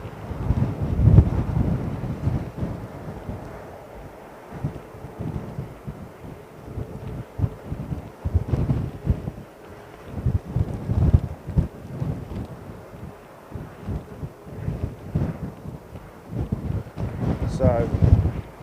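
Strong gusty wind buffeting the microphone at Heathrow Airport, uneven bursts of low rumbling that rise and fall throughout, with a voice briefly heard.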